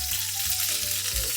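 A tablespoon of butter sizzles and crackles steadily in a hot pan close by, a continuous frying hiss with a faint low hum beneath and no talking.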